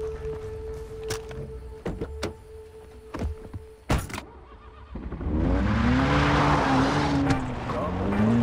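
A car in the video game Far Cry 3: a few clicks and a thud like a door, then the engine roars up and keeps droning loudly as the vehicle drives off.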